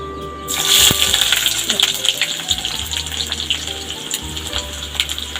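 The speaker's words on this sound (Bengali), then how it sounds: "এবার আমার তেল গরম হয়ে গেছে, এবার আমি পেঁয়াজ ছাড়বো।" Sliced onions dropped into hot oil for desi chowmein burst into a loud gushing sizzle that settles into a steady crackling fry, with small pops and clatter from the pan continuing throughout.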